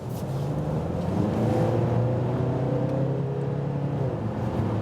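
A 2021 VW Golf Alltrack diesel estate in sport shift mode accelerates from 70 to 100 km/h, a steady engine drone heard from inside the car that rises gently in pitch, with road noise beneath.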